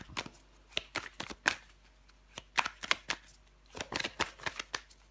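Tarot cards shuffled and laid down, a series of quick crisp slaps and riffles in irregular bursts, close and clear with no talking.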